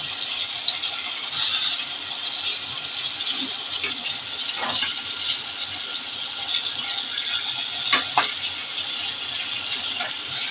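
Salted, turmeric-coated hilsa fish fry in a pan with a steady, dense sizzle, broken by occasional sharper crackles and pops, close and moderately loud, and no one talks.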